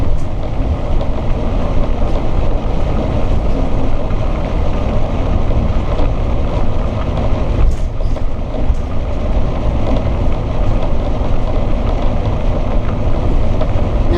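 Georgetown GT5 motorhome driving at about 37 mph on back roads, heard from inside as a loud, constant low road rumble and drone with no breaks.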